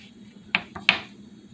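A knife dices tomatoes on a cutting board for a cucumber, tomato and red-onion salad, giving two sharp, close taps about a third of a second apart over a quiet room hum.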